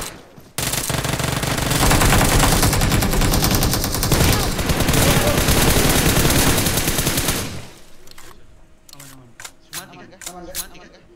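Rapid sustained automatic gunfire in a video game firefight, dense and loud for several seconds before cutting off into scattered single shots, with players talking over it.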